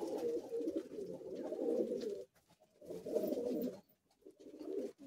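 Madrasi high flying pigeons in a Kolkata loft coo in three bubbling bouts, the first long and loud, then shorter phrases after clear gaps, several birds overlapping up close.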